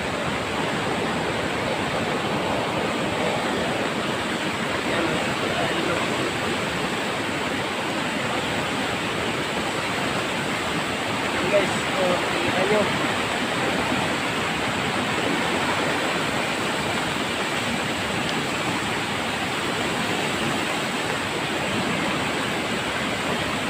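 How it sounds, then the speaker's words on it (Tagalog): A rushing flooded river beside a bridge during heavy rain in Maco, Davao de Oro, a loud, steady roaring wash of water that fills the whole stretch without pause, no voices. "Grabe ang laki na ng ilog. Tsaka patuloy pa rin ang bagsak ng ulan."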